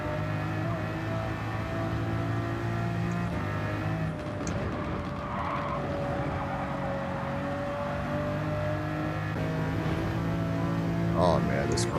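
A Pagani Huayra's engine in a racing video game drones steadily and holds its pitch at high revs with slight shifts over twelve seconds, a constant loud motor tone with faint background sounds mixed in.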